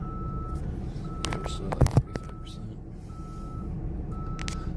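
A truck's backup buzzer beeps steadily in repeated evenly spaced tones on a street, heard from a scooter with traffic rumble underneath and a brief bit of talk.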